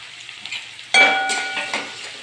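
Garlic, green chili, ginger and onion hit hot oil for paneer Hyderabadi, bursting into a loud, close sizzle after a quieter stretch, then crackling steadily with a stir or two.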